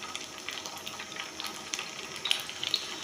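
Chapli kebabs sizzling and frying in a pan over a medium flame, a steady bright crackle of hot oil with small pops and spatters growing slightly busier toward the end, heard close up with no voices.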